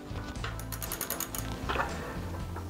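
A hand ratchet tightens the rear axle bolts on a Miami Sun Baja trike, giving a quick burst of metallic clicks, then a few slower turning clicks and grinding mechanical noise close by.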